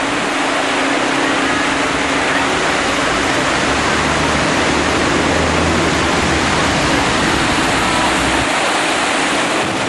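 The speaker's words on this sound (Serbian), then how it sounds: "ovako izgleda kod same fontane. Voda je svuda u krug." Fountain water in Genoa, Italy splashes all around in a dense, steady rush, loud and continuous with no talk over it.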